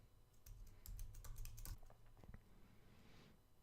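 Password keystrokes tapped on a computer keyboard while logging into a Linux machine for key-based authentication, a quick irregular run of close, fairly quiet clicks.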